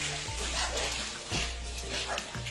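A dog being pulled out of a well on a rope yelps and whimpers over a steady wash of sloshing water, with voices talking nearby.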